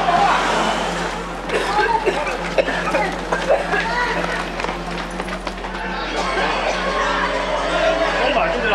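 A crowd of protesters runs from tear gas, with dense hurried footsteps and agitated chatter and shouting throughout. Voices talk over the scramble.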